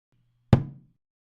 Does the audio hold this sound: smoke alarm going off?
no